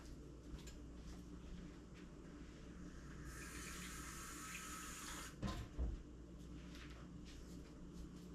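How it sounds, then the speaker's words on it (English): Water runs steadily from a tap or is poured into a pan for a couple of seconds, a bright hissing stream over low background hum, followed by a couple of soft clunks. "we're going to put 1/4 cup of water"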